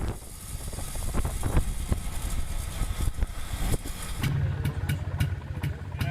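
A 1970s classic 250cc motorcycle runs nearby, its engine note a steady mid-pitched drone with intermittent blips of revving and a few sharp clicks toward the end.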